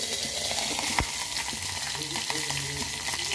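Cumin seeds and green chillies fry in a pan with a steady, close sizzle, joined by a few sharp crackles and stirring noises.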